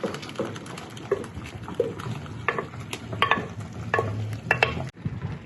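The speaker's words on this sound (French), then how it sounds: "On mélange bien la soupe" Soup with blended green sauces being stirred in a pot, a series of soft scraping and liquid sloshing strokes under a low simmering sizzle, close and fairly loud, ending abruptly.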